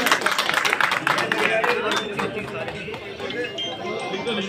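Guests being welcomed at a dargah committee gathering get loud, dense applause that gradually softens, with crowd chatter and voices mixed in.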